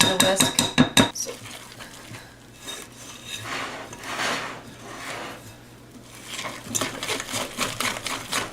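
Gluten-free banana bread batter mixed in a bowl, a utensil clinking and scraping against the sides in quick rhythmic strokes at first, then softer stirring and swishing, close up with no talk.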